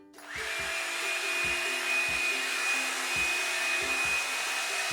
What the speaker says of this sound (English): we're going to start by taking small sections at a time with the hairdryer on low